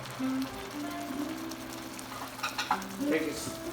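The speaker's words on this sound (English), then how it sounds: "So as it comes to a boil, just let it keep boiling." Tomatoes and stock boil in a pan on the stove with steady sizzling and bubbling, faint stirring scrapes and light clinks; no one speaks.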